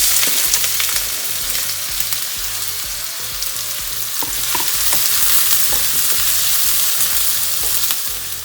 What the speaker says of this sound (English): Time to add onion.